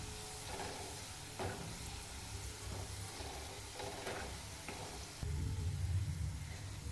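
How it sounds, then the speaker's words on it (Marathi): Onion roasts in a pan beside soybean curry preparation, a steady close sizzle with scattered scraping stir sounds and a louder burst near the end. "असाच कांदा भाजून घ्यायचा आहे"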